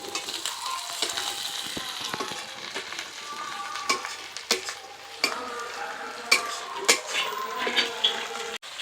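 Chopped tomato frying with ginger and garlic paste in a pan, a steady sizzle broken by repeated stirring scrapes and clinks, close and alone without talk.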